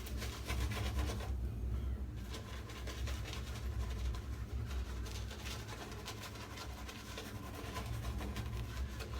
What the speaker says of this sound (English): I'm just going to lather up again at the back.